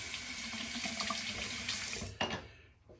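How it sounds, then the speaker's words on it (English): Warm water runs steadily from a tap into a sink while a razor is rinsed under it, a close continuous splashing hiss that breaks with a brief louder splash near the end before trailing off. "So I've rinsed off with warm water."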